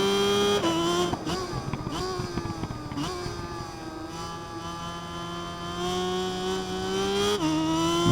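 A motorcycle accelerates in the RIDE 5 racing video game, with a steady, high engine whine that climbs in pitch and drops sharply at each gear shift, continuous and fairly loud throughout.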